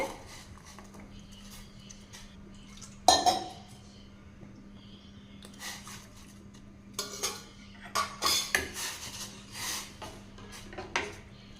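A spoon stirs a horse gram porridge mix in a pot, giving intermittent scrapes and clinks of metal against metal over a quiet background, with a louder knock near the start.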